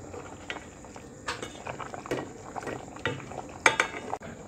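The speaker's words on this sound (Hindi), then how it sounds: "अब हम इसमें पोर करेंगे, हम मिक्स करेंगे इसको आहिस्ता आहिस्ता ताकि मछली टूट ना जाए" Chili paste is stirred slowly into a simmering fish curry with roselle leaves, giving soft bubbling and gentle scrapes and clinks of a utensil against the pot, with a sharper knock near the end, all close up.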